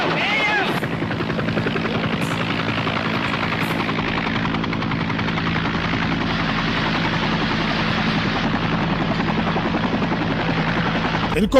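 A helicopter in a war film scene makes a steady, loud chopping rotor drone throughout, with dialogue and voices heard over it.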